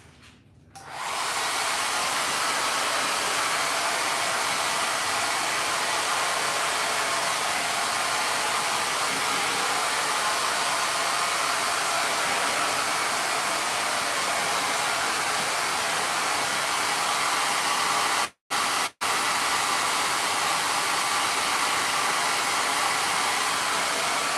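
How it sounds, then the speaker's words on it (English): A hair dryer blows paint dry on a craft project, a loud steady whir that starts within the first second and runs continuously, broken only by a couple of very brief cut-outs near the end. "So I'm gonna blow dry it again real quick so I can get a good result here for you guys."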